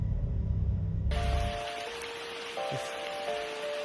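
Rain falls steadily through a forest on a wet hiking day, a soft continuous patter of drops on leaves and ground, with a brief low rumble at the start and a few faint tonal hums over it.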